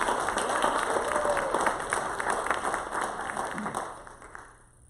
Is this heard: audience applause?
yes